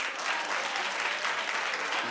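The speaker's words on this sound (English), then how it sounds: "clap if you like these" A television studio audience claps enthusiastically, producing a dense, steady roar of many hands applauding at once, close and even for the whole stretch with no talk over it.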